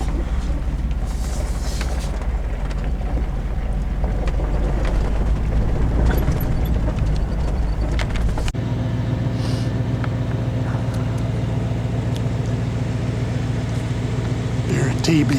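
A four-wheel drive vehicle rumbling and jostling along a rough desert dirt road, with a loud continuous engine drone and road noise that shifts in tone partway through, and voices talking over it at times.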